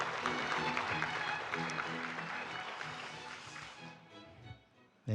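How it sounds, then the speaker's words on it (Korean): Audience applause at an academic conference session greeting a lecturer, a dense sustained clapping that fills most of the clip before fading out near the end. "다시 한번 박수 부탁드리겠습니다"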